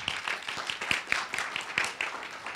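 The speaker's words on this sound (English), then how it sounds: "Let's give her a huge round of applause" A faint, thin round of clapping from a small audience welcoming a student pitch presenter, with individual claps audible in a loose rhythm in a room.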